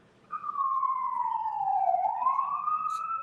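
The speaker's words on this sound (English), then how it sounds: "You're getting sounds of Brooklyn over here." A single siren wails nearby on a Brooklyn street, its pitch sliding down and then rising again, with faint street noise underneath.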